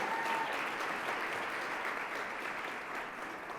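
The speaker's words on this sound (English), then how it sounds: "Let's give it a round of applause for all the brothers in the room." An audience at a Columbus Metropolitan Club forum on Black men in Central Ohio applauds in a dense, sustained round of clapping that fades slightly toward the end.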